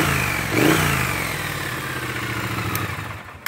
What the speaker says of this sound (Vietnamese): Đó, đây là tiếng nổ của con xe Speedtrain ha.